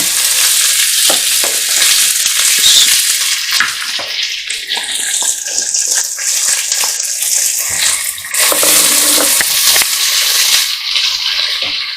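Two freshly chopped onions fry in a pan for spaghetti bolognese, giving a loud, continuous close sizzle with scraping stirs and crackles throughout, no voices.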